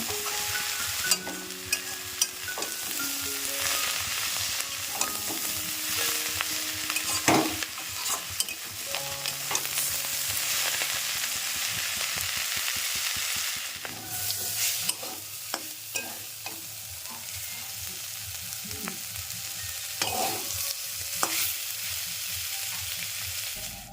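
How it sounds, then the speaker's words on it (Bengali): Broad beans with slit green chillies being stir-fried in a pan, with repeated scraping and knocking spatula strokes over a continuous sizzle throughout, close and fairly loud, with no talk. "সিমটা আগে একটু ভাজা করে নিয়েছি আর এখন দিয়ে দিলাম"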